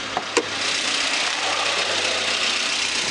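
A Hyundai i30's 2-litre G4CB engine idles at a steady, even hum in an auto parts yard, close and continuous, with a couple of sharp knocks near the start.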